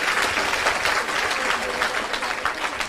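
An audience bursts into dense, sustained clapping that stays loud and steady from start to finish, with no break in the applause.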